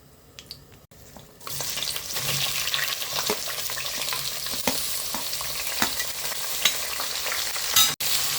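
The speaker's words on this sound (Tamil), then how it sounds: "இது எல்லாத்தையும் போட்டு இப்போ வதக்கிக்கலாம்." Whole spices, including clove, sizzle with onions being sautéed in a pan while stirred for a chicken kulambu, a steady close frying hiss that starts abruptly and runs continuously with occasional scraping.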